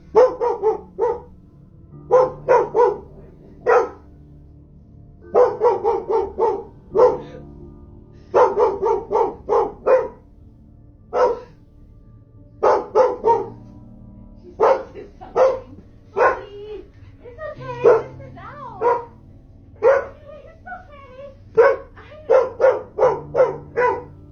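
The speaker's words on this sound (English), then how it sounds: "You're terrorizing your dog." A dog barks repeatedly in loud, clustered bursts of sharp barks with brief pauses between them, plus a few higher yelping calls, close by and with no talk over it.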